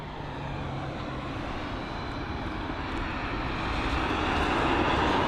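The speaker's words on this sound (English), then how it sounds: "There that was the American Airlines 787-9 Dreamliner heading to Philadelphia." An American Airlines Boeing 787-9 Dreamliner at London Heathrow gives a continuous broad jet-engine roar that slowly grows louder over several seconds, steady and close, with no speech.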